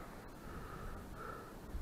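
A crow caws as it flies close past a railway line in an industrial district near factories, a brief raspy call over steady outdoor background noise.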